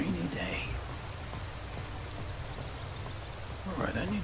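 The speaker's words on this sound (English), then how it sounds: "Another dreary, rainy day." Steady rain falls in Skyrim, a dense even hiss of drops on the ground with a close, soft texture, while someone speaks briefly at the start and again at the end.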